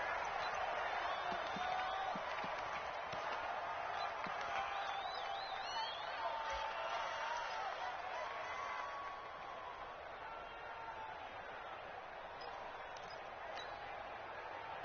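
Stadium crowd in an NFL video game match between the Philadelphia Eagles and the Washington Redskins, a steady distant roar of spectators that dips slightly partway through, with faint bursts of cheering and a commentator talking over it.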